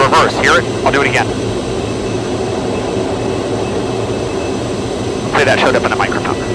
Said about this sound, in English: It's the prop coming into reverse.